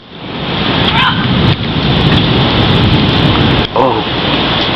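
A summer thunderstorm in 100-degree heat brings heavy, loud, continuous rain and a low rumble of thunder, with a couple of brief dips in the roar.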